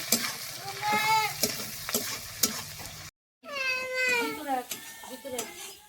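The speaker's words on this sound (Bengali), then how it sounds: "স্বাদ মতো লবণ স্বাদ ব্যালেন্সের জন্য চিনি দিয়ে ভালো করে মশলা আমি কষিয়ে নেব" Spice masala fried and stirred in a pan with salt and sugar, a steady sizzle with scraping strokes running under a voice, cut by a brief silent gap midway.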